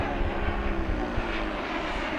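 A large FMS 1700mm Corsair V3 RC model warbird on a 6S setup with a new propeller makes a fast pass down the runway at full power, giving a steady, loud motor and prop drone with no speech.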